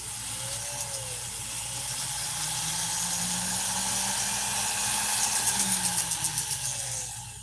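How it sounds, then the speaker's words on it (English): A high-pitched Dremel rotary tool whines steadily as it grinds against metal on a typewriter, close and loud, with a rattling chatter near the end. "I might get my Dremel going."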